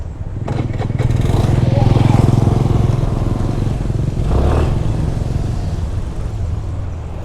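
A 125cc Suzuki scooter engine runs steadily up close, a loud continuous buzzing drone that holds level throughout with a slight swell in the middle.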